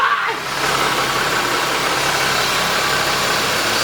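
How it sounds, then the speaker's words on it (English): A car engine fitted with a Mishimoto intake boot catches almost at once and settles into a steady, loud idle with an even mid-range hum and vibration, heard up close and without speech. "Started right up, idling good."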